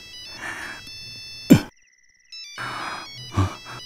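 A phone ringtone plays in repeated electronic bursts with a short silent gap, interrupted by a sharp thump, loud and close in a room.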